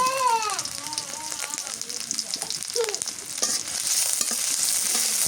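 Chopped onion and green chili fry in a pan for a Pogol fish curry, giving a steady hiss and crackle throughout, with a voice talking over it early on and a few utensil clinks.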